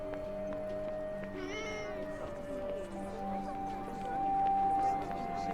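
A cat meows in the video game Forspoken while the player wanders the town of Sepal, a short clear call rising over steady game music and ambient sound, with someone talking through much of it.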